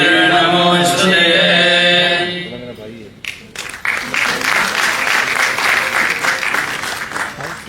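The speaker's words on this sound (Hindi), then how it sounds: "दीप के लिए तालियों की गर्जना थोड़ी कम थी" Audience at a bhajan launch event clapping after a ceremonial lamp lighting, a steady burst of applause following a sustained sung or instrumental tone, filling the hall for several seconds.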